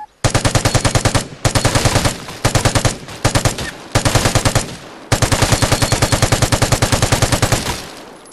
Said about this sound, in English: Machine gun. RPK.